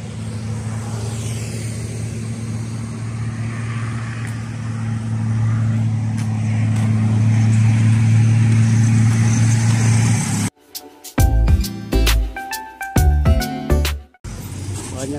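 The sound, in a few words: cars passing on the Reformasi toll road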